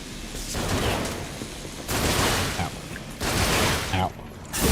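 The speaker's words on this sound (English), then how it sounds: "Could you shoot me less, please?" Enemy gunfire in Lies of P comes in three dense, rattling bursts separated by short pauses, loud and close, with a voice talking in between.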